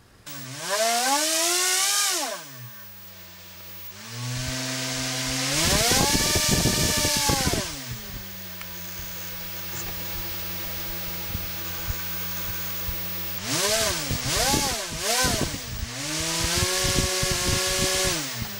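A small motor powered by a homemade 12V 30A power supply, revving up and down in repeated bursts with rising and falling whine, steady stretches between, loud and close.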